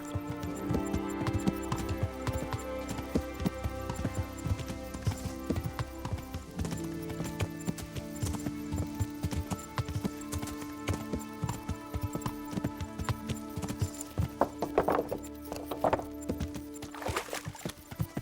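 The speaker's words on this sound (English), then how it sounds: "Well, that's some crazy horse riding skills." Galloping horse hooves patter in a rapid, continuous rhythm in the video game Kingdom Come Deliverance, heard steadily under a sustained tonal music bed with no talk.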